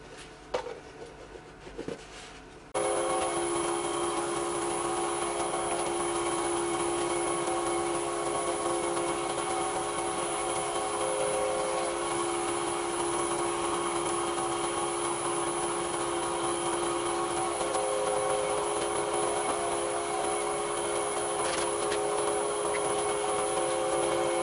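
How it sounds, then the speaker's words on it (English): Steady, even whirr of a wood lathe spinning while a pen and pencil blank are sanded, a continuous close rasping hum that runs unbroken after a brief quieter start. "Bit of sanding, sealer and polish now."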